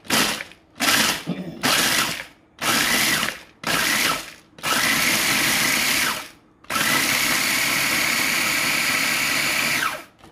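A small food processor chops chocolate for truffles in loud whirring pulses, several short bursts followed by two longer continuous runs, close up with no talking.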